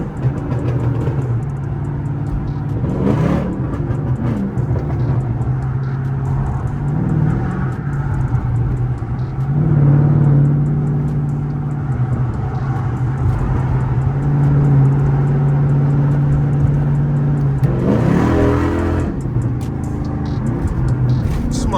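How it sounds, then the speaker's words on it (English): A Chrysler 300C AWD with a Hemi V8 drives at night, its engine droning steadily close by and swelling in several surges as the throttle is pressed, with road noise beneath and no talking. "Motherfucker sounds so aggressive when I step on it."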